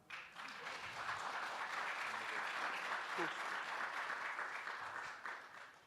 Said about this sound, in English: y'all can clap for that one